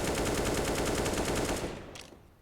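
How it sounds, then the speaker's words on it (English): Rapid automatic gunfire in a Counter-Strike match on the Inferno map, a dense, loud burst of evenly spaced shots lasting about a second and a half before cutting off, followed by a faint short rattle. "The exchange of fire towards B"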